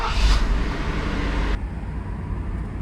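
A classic Mercedes-Benz R107 drives along, its engine and road rumble steady and close, with a brighter rushing layer over the first half that drops away abruptly, leaving a lower, continuous drone.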